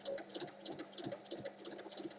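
Sewing machine stitching the sides of a small fabric bag, a quiet, steady run of rapid stitch ticks with a faint motor hum, close and alone.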